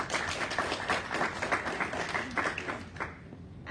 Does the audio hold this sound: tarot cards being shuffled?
no